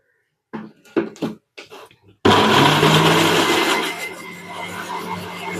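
After a few brief vocal sounds, a mixer grinder roars into life, grinding tomatoes with ginger into a paste: a loud, close, steady whirring motor that eases slightly in pitch as it runs.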